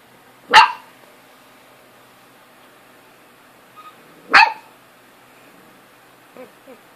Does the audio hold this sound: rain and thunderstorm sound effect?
no